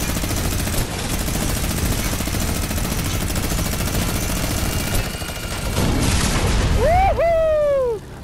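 Plane gunfire during a Fortnite dogfight, rapid continuous bursts of automatic fire over engine drone for several seconds, ending in sharp descending whistles near the close.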